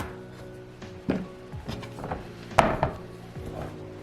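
A knife cuts through a whole pumpkin on a kitchen surface for baking: a few dull, woody chopping knocks, with sharper impacts near the middle and end, close and fairly loud among faint kitchen clatter.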